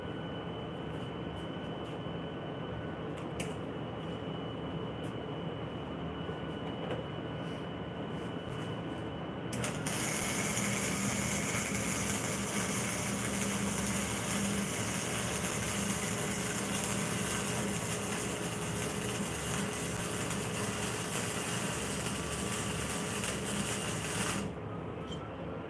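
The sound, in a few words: flux core welding, laying a bead on metal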